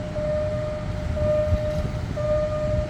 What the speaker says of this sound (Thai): เสียงสัญญาณเหมือนเป็นเสียงเร่ง เร่งให้รีบผ่านพ้นจุดตัดให้เร็ว